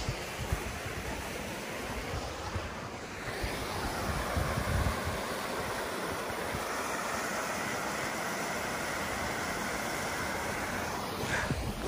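Water pouring down a small tributary waterfall on Grout Creek near Big Bear, California, a steady broadband rush that holds evenly throughout with a slight swell midway, no voices.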